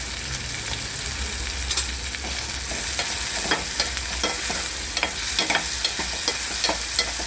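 Mustard seeds and garam masala frying in a pan for cabbage bhaji, a steady broadband sizzle with scattered sharp pops and crackles from the seeds, close and continuous throughout.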